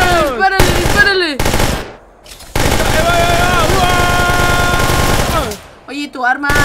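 Rapid automatic gunfire from a weapon in Minecraft, loud and sustained in long bursts, with voices talking over and between the shots.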